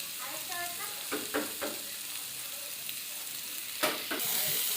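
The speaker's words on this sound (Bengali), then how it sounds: "সুন্দর করে ভেজে নিলাম, মশলাটা, পুরো মশলাটা।" Tomato and ground spices with garam masala frying in a pan: a continuous hiss of sizzling oil broken by several sharp scrapes and taps of a spatula stirring, close and fairly quiet.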